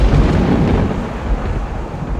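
Stage thunderstorm effect for a theatre production of Sam Shepard's Buried Child, a Midwest storm: a loud, continuous low rumble of rolling thunder with dense rain-like wash throughout, no voices.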